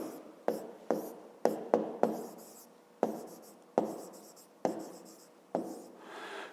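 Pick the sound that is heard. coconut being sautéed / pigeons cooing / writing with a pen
writing with a pen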